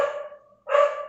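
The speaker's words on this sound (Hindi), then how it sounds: "कुत्ते वगैरह भौंक रहे थे" Dogs barking outside: two short, moderately loud barks separated by a brief pause, with no talking over them.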